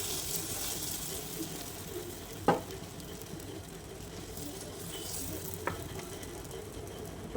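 Moong dal and semolina batter sizzling in an oiled sandwich maker, a soft continuous frying hiss with two brief clicks or knocks of the appliance partway through, fairly quiet and close.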